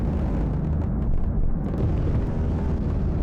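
Gunship cannon shell explosions in Project Gunship, a loud sustained rumble of impacts and booms filling the space, with no clear voices.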